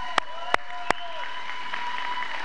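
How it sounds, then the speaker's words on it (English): Crowd applause for teachers at a school dismissal gathering, a steady wash of clapping punctuated by three sharp loud claps near the start, then fading into lighter sustained clapping. "Give them a big round of applause"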